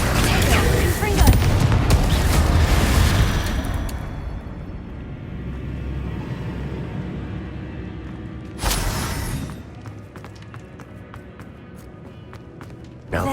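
A loud, rumbling burst from a Confringo blasting spell in Hogwarts Legacy fills the opening seconds and fades. A second, sharper blast hits later, with a voice calling out over the game sounds.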